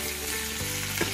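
Thai green curry fried rice with shrimp being stir-fried, with a dense, continuous sizzle and a brief clatter of stirring near the end, close and steady, with no talk.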